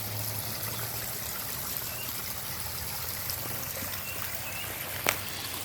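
A garden hose runs steadily at a garden pond under construction, giving a faint, continuous hiss and trickle of flowing water with no talk.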